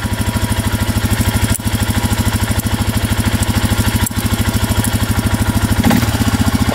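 A beat-up 4x4 ATV engine runs in gear with a steady, rapid, loud thumping putter, close by, with slight dips in rhythm and no talking.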